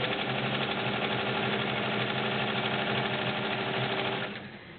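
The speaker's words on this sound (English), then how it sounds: "There's your triple point zigzag." A vintage Kenmore 1752 sewing machine runs steadily, stitching a triple point zigzag with a fast, even mechanical whir and clatter close by, slowing and fading in the final half second.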